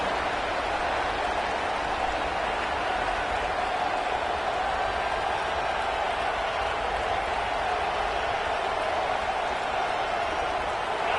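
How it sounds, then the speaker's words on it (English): Steady stadium crowd roar fills a football video game, a dense continuous wash of cheering and murmur at even loudness throughout, with commentary voices blended faintly within it. "This crowd ready to make its presence known."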